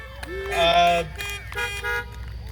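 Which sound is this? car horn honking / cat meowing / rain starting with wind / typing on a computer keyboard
car horn honking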